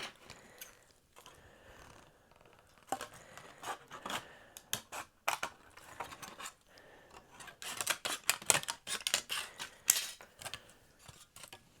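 Scissors snip through a thin metal tomato paste tube, cutting out shapes with sharp, irregular clicks and crunches, close up, growing denser and louder toward the end.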